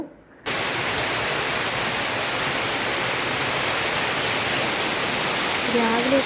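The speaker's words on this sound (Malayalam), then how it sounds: "രാവിലെ തന്നെ നല്ല കാറ്റും മഴയാണ്" Steady rain with wind pours down, a dense, even hiss of drops on surfaces that begins abruptly after a brief quiet moment.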